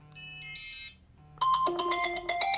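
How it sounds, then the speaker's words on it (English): An iPhone 14 plays notification sound previews. First comes a short bright chime of a few tones, then a pause, then a second, busier melodic alert of quick bell-like notes. Both are clear and close, with no talk. "you can choose from a list of different notification sounds"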